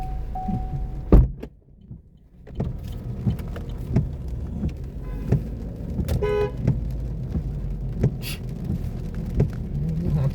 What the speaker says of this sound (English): What are you honking at?